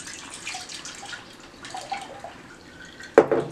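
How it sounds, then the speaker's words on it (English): Fermented rejuvelac is poured through a small strainer into a measuring cup, a soft trickle and drip of liquid ending in a brief louder splash or clink near the end. "I'm just going to strain it through my little strainer right into this 3 measure cup"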